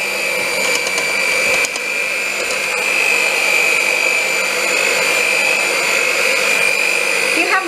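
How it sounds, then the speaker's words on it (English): A small handheld electric whisk runs on its lowest setting for gingerbread batter, a loud steady motor whine with a constant pitch, close by and uninterrupted. "this is just a small handheld whisk"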